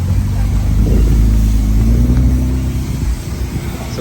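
An Infiniti Q50 with an FBO tune idles and creeps up at a car wash, its deep, steady exhaust rumble loud and close throughout with some wind buffeting the microphone.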